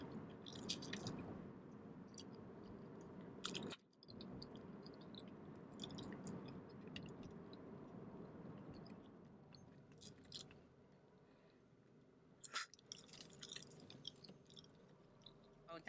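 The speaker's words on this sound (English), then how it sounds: "They tell just how I chew gum in 3D." Close, soft wet chewing of Juicy Fruit gum in a car in hot Houston weather, a steady squishy smacking with small clicks and brief pauses, with no talking.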